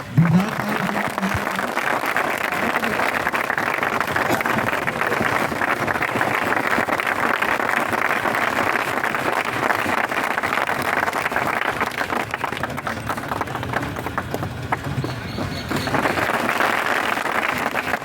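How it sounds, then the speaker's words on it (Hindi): A large audience claps loudly and continuously as a dense, sustained wash of applause that carries on for the whole stretch, with no break. "जोरदार ताली बजाइए।"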